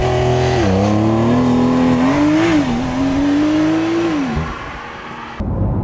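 A Porsche 911 Carrera 4 GTS accelerates hard with a loud, close engine note that climbs through the revs, dips briefly at shifts, then eases off and fades out.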